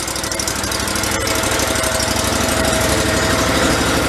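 The engine of a Terramite compact tractor, repaired after it threw a rod, runs steady and close with a loud, rapid chugging putter like a small lawn-mower engine. No one speaks.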